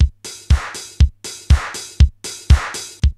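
A short electronic drum loop with punchy kicks, a snare and hissy hi-hats in a tight, steady repeating rhythm, loud and close with no voices.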